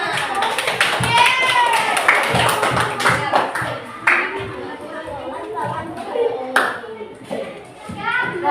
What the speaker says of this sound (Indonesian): beri tepuk tangan buat temannya